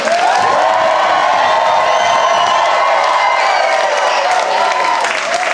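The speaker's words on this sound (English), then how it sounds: "Audience, make some noise if you want to hear more from Steph Darnell." A comedy club audience in New York roars with sustained cheering, whooping and applause, a loud continuous crowd wash with scattered shouts rising above it.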